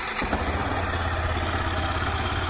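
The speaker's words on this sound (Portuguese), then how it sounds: "a moto em funcionamento" Yamaha Fazer 150 motorcycle with about 115,000 km on it, engine idling steadily with a low rhythmic thrum and a slight clatter near the start, close and fairly loud, no speech.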